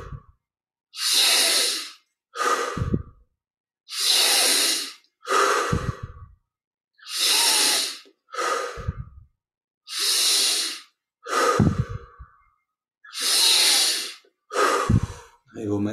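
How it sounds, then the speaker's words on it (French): Deep, slow breaths in a yoga meditation exercise: about five long paired inhale-exhale cycles, loud and close, each breath a broad airy rush followed by a shorter one, separated by brief silences. "On augmente progressivement l'amplitude des respirations."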